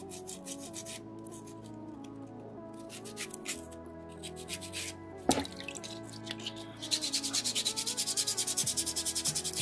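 Sandpaper rubbing a soapstone beaver carving, with a steady scratchy back-and-forth rasp that turns to quick, regular strokes near the end, plus a sharp knock in the middle and soft background music.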